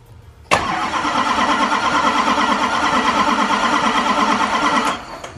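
The starter cranks a GM Duramax diesel engine in a 2500HD pickup: a sudden, loud, even whirring drone held for about four seconds, then cutting off without the engine catching, with no talking.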